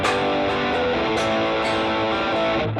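Electric guitar played through a Helix legendary drive with reverb added: a loud, saturated and sustained distorted tone with a few picked attacks, heard alone without speech.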